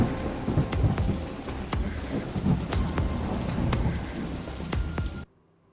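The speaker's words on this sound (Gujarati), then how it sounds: "અને વરસાદની શરૂઆત થઈ છે અને મુશળધાર વરસાદમાં સ્થિતિ બગડી પણ રહી છે।" Torrential monsoon rain pours in Savarkundla, Amreli district, Gujarat, a dense steady roar with low rumbles of thunder throughout. It cuts off abruptly near the end.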